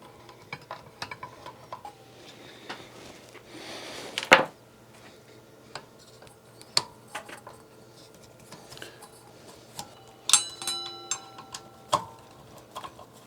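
Screws being driven by hand to fasten wooden blades onto a 52-inch farmhouse ceiling fan motor, heard as scattered close clicks, ticks and light metallic taps with one louder clatter, no talk.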